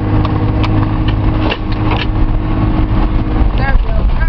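A truck races around a muddy corner at about 40, its engine roaring steadily under loud, continuous road and mud noise with occasional rattles and clunks.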